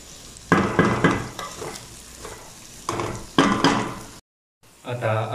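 Eggs are stirred in a hot pan for an Indian chugni dish, with bursts of scraping and sizzling in two main clusters, a brief silent gap, then renewed frying noise close up.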